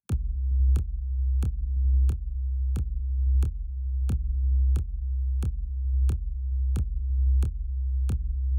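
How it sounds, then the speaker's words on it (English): Deep synth bass rounded and thickened with a Wave Shaper effect, repeating as a steady pulse of booming low notes roughly every two-thirds of a second, loud and alone with no talk. "So now I'm going to use Wave Shaper to make the bass a little bit rounder, bigger."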